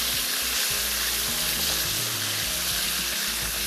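Chicken sizzles loudly in hot oil for a Frontier chicken masala, a steady dense crackle with low knocks of stirring underneath, close and continuous throughout.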